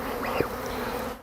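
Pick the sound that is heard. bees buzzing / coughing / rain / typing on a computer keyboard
bees buzzing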